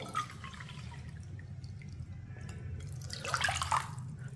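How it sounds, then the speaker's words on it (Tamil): Two cups of water pour and splash into a kadai for ragi porridge, getting louder toward the end over a steady low background hum. "இதில் வந்து 2 கப்பு தண்ணி ஊற்றிக்கிடுவோம்"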